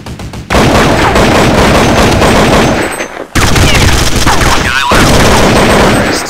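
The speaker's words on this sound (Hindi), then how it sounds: "अगर आप ठक ठक टैप टैप करके फायर करें" Assault rifle tap-fired in Counter-Strike: loud, dense bursts of gunshots in two long runs split by a short pause, close and punchy, with no talk over them.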